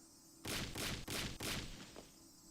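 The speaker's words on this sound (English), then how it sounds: "Shion banged on the door." Shion pounding on a door in the Higurashi visual novel game: four loud, heavy bursts of banging in quick succession, then a fainter knock, set against a quiet background.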